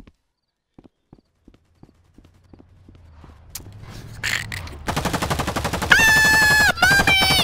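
Gunfire in the video game Rec Room, starting as sparse single shots that speed up into a dense rapid burst, loud and close, ending with a sustained tonal effect.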